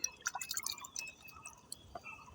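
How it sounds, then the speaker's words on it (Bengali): Water poured over a freshly planted potted gerbera drips and trickles into the soil. The splashes are faint, close and irregular over a quiet background. "এখন এখানে জল দিয়ে দিতে হবে জলটা প্রথমত একটু বেশি করেই দেবেন"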